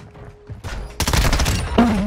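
Burst-fire MP5 shots in a video game ring out loud and close, with quick clustered bursts of rapid cracks following a brief quieter lead-in.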